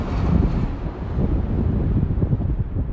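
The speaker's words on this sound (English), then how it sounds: "It is just so amazingly windy out here." Strong outdoor wind buffets the microphone in heavy, uneven low gusts, a loud continuous rumble with no voices.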